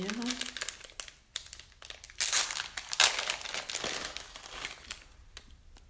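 Plastic packaging holding a set of bracelets is crinkled and torn open up close, giving loud rustling bursts and crackles while someone talks.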